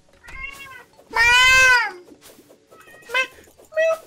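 A cat in the Terraria Journey's End game meows several times, one long loud drawn-out cry in the middle and shorter mews after it, with faint background sounds between.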